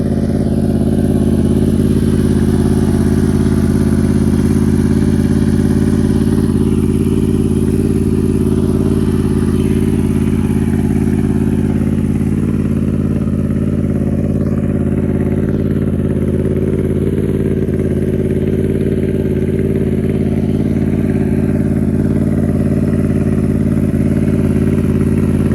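A Yamaha R1 motorcycle engine runs continuously at a low, steady idle during beginner clutch practice, a loud, even drone with slight variations and no speech.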